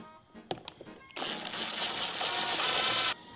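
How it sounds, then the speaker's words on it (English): A power drill drives screws into a wooden pump box: a few short taps and clicks, then a steady, loud whirring run of about two seconds that stops abruptly. "So we need to put a couple of screws in there."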